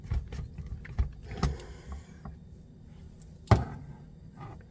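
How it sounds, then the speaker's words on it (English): A capsule filling machine presses halves of homemade beet powder capsules back together, producing scattered sharp clicks and snaps over a low rumbling handling noise, close by with no talk. "And what you're hearing are the capsules rejoining."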